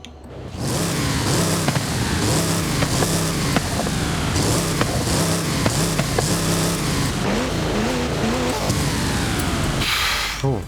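A tuned car engine in a video game roars and revs loudly and continuously, its pitch rising and falling through gear changes with no pauses.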